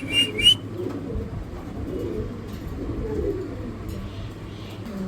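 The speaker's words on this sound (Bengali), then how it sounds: "একেবারে ফুল অ্যাক্টিভ কবুতর, নন স্টপ ডাকাডাকি" Spanish Pouter Granadino pigeons coo steadily close by, a low continuous burbling over a room hum, with a couple of sharper bird chirps near the start.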